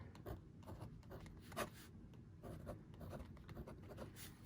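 A pen writes on a Post-it note: faint, close scratchy strokes in short runs, with no voices.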